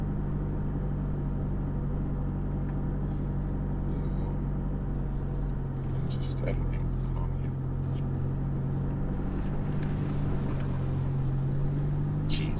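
A 4WD vehicle crosses a creek on Fraser Island, its engine a low steady hum with faint water sloshing throughout, while people talk over it inside the cabin.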